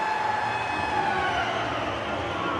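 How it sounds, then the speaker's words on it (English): A period-ending siren blares in an ice hockey arena during a 1993 playoff game between the Canadiens and the Nordiques. It is a sustained, steady horn over constant crowd noise for the whole stretch. "Kirk Muller, the shot blocked by Wolanin, and Neil clear at the siren"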